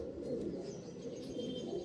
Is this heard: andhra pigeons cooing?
yes